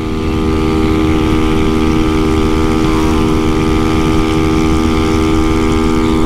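A Honda Fan 150 motorcycle engine held at high revs in fifth gear, a loud, steady mid-pitched drone with strong harmonic hum that barely varies throughout.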